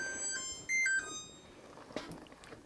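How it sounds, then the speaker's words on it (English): An oven timer alarm beeps in a home kitchen during candy making, a few faint high electronic tones close together early on, followed by quiet kitchen sounds. "Guess I should turn the alarm off on the oven first,"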